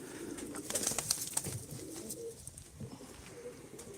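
Takka perçem pigeons at a Turkish bird auction give soft, low cooing, with a few brief sharp chirps near the start and a murmuring crowd and room noise beneath.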